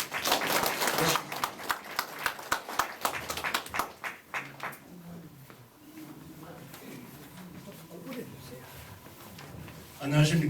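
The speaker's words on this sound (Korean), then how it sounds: "박수 해 주십시오." An audience at a lecture on Chinese characters bursts into applause, with dense clapping at first that thins into scattered claps and fades. Soft room murmur and shuffling follow, then a brief thump at the end.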